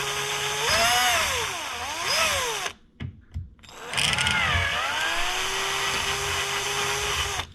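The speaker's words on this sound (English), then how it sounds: "I'm changing over to a 1/8 inch diameter drill bit" A power drill with a 1/8 inch bit whines as it bores into a boat, chipping the edge, its pitch dipping and rising under load, stopping briefly for a couple of short bursts before a long steady run.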